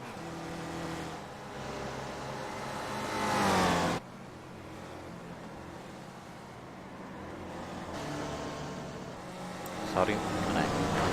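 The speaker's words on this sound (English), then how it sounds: "A few cars passing." Several race cars pass in a sim racing game at Summit Point, engine tones rising and falling with revving, fairly loud throughout, with a sharper surge near the end.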